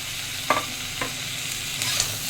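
Ginger-fennel paste frying in a wok for shukto, a quiet constant sizzle broken by a few sharp scrapes of a spatula stirring, close by, with no one talking.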